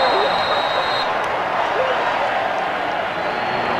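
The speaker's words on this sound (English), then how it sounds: "You can hear a little bit of a defense chant from this crowd here at Mile High." Football crowd at Mile High stadium, a dense continuous roar of many distant voices with a faint rhythmic chant woven into the wash of noise, steady and loud throughout.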